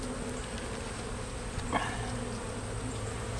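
Honey bees droning steadily around an open brood box during a hive inspection, a sparse colony giving a constant low buzz with one brief closer pass, no voices.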